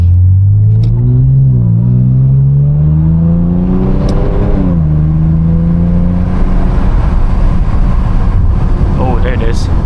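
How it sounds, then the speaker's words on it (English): A Lexus IS 350 fitted with an Apexi exhaust revs up and down with rising and falling engine tones, while faint pops and crackles come through and a voice speaks over it. "without any tunes, and you can still hear pops"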